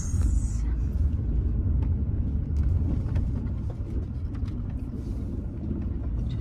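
Steady low rumble of a vehicle engine driving in four-wheel drive, continuous and close throughout with faint rattles riding on top, no talk.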